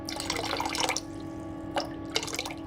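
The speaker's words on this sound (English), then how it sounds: "I'm just going to pour, you know, like a couple of tablespoons" Liquid is poured into several containers in a kitchen, about two tablespoons into each, as a soft steady trickle with brief splashy spurts and a faint hum underneath.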